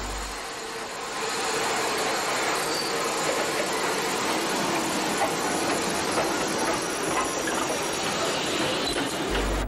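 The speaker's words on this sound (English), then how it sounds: "rebuilt West Country 34046, Braunton, shunting the stock which will later form an up-stopping service" Rebuilt West Country steam locomotive 34046 Braunton shunting coaching stock at Basingstoke, a broad, hissing rumble that rises after a second and holds steady, with the clatter of moving stock.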